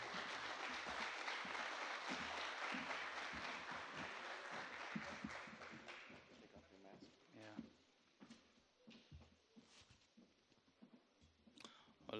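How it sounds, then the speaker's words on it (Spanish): An audience at an FBI presentation on mobile phone location applauds for the speakers, a full burst of clapping for about six seconds that thins out into scattered claps and small noises. "brindémosles un fuerte aplauso"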